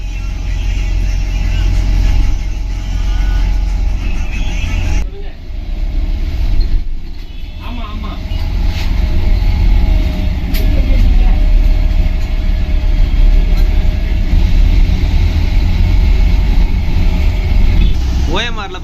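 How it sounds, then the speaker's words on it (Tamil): SETC Vasantham AC seater bus on the Thiruvanmiyur to Tirunelveli route, pulling out of Thiruvanmiyur into heavy peak-hour traffic on OMR; a steady, loud low engine and road rumble persists throughout, with brief dips and faint traffic sounds around it. "இப்போ தான் பஸ்ஸு திருவான்மியூர்லேருந்து வெளியே வந்திருக்கு."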